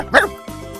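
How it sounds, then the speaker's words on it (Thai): A dog barks loudly twice in quick succession, close up and sharp, with no speech. "หมาไปสกปรกเห่าเสียงดัง"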